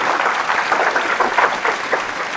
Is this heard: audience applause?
yes